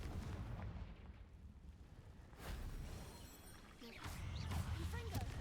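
Confringo fire-spell blasts in Hogwarts Legacy, a couple of booming bursts among rumbling combat noise at moderate loudness, with a voice talking briefly.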